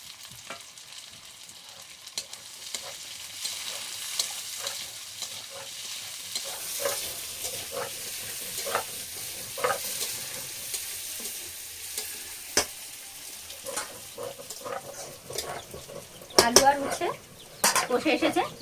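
Bitter gourd pieces with sweet potatoes and regular potatoes frying in oil and being stirred, a steady sizzle broken by repeated scraping strokes of a utensil against the pan, with voices speaking quietly around it.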